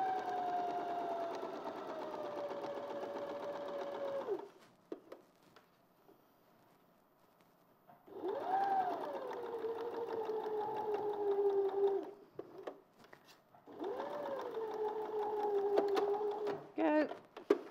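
A sewing machine runs steadily over dressmaking pins in three sustained whirring bursts separated by pauses, with a motor hum that dips and rises in pitch and faint clicks between runs.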